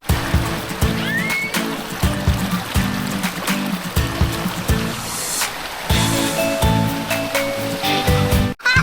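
Water rushes and splashes steadily at the cliff face of Ka Ang waterfall in Nakhon Nayok, Thailand, a pool where people swim. The broad, continuous roar runs through the whole stretch, with other sounds faintly beneath it.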